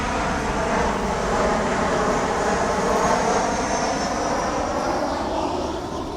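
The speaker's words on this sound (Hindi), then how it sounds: "दोबारा प्लेन जा रहेगा, प्लेन जाने दो फिर बताता हूँ" An airplane passes overhead, a loud, steady broadband engine roar that holds throughout and eases only slightly at the end, with no talk.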